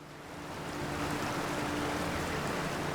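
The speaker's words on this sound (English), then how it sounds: "A big old waterfall over there." A big waterfall in the fantasy game Avowed roars as a steady, broad rush of falling water that swells over the first second and then holds at an even, moderate level, with no voices.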